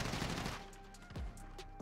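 Gunfire in Call of Duty Modern Warfare, a dense stretch of rapid rifle shots at the start, then a couple of sharp isolated shots as the exchange thins out over about two seconds, with no talk.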